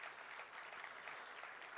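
Steady applause from an audience at a book fair in Ahmedabad, a faint, even wash of clapping with no break and no voices over it.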